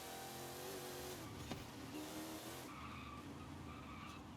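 In Forza Horizon 5, tires lock up and skid under a steady race-car engine drone, giving a brief screech that rises and falls within a continuous motor and road noise.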